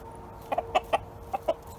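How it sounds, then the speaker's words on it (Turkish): A rooster clucks close by in a chicken coop, a short series of six quick, clipped clucks over a quiet background hum. "Horozumuzu da getirdik."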